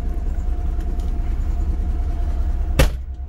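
A 2009 car engine idles with its cooling fan running, giving a steady low rumble and whirring drone that holds even throughout, broken by a single short sharp knock near the end.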